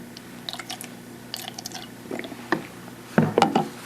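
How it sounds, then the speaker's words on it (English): Deionized water splashes and trickles in short bursts over pH meter probes, with faint clinks and drips, close and fairly quiet. "We rinse them off with deionized water"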